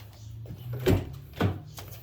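A car door on a 2010-2012 Ford Taurus SHO with a bad engine is opened, giving two distinct clunks about half a second apart, close and moderately loud over a low steady hum.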